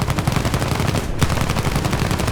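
Bomber turret gunners firing machine guns from a P.108B Serie 1 in War Thunder: dense, rapid bursts of gunfire rattling continuously, loud and close, with a brief gap midway before the firing resumes.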